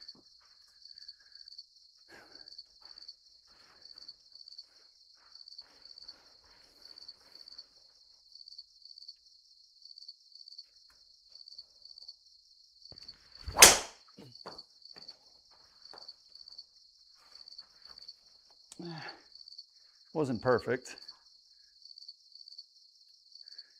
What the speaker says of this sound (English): You love those crickets?